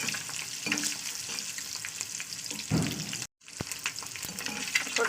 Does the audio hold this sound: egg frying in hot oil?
yes